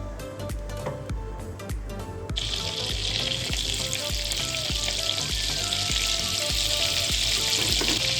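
Oil and a spoonful of butter sizzle in a kadai over a gas flame, a loud continuous frying hiss that swells partway through, with light scraping and stirring clicks throughout.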